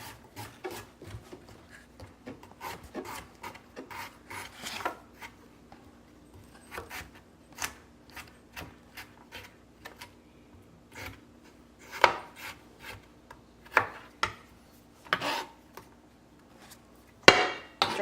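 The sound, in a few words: slicing turmeric root with a knife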